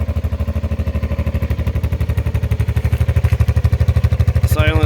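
Badger 80cc small engine running with its exhaust silencer core removed, a loud, steady, rapid popping chug that holds for several seconds before a brief rattling shift near the end, with no talk over it.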